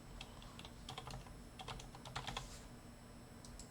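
Someone types on a computer keyboard while entering an ID number into a school application form: faint, quick bursts of key clicks with brief pauses, close by in a quiet room.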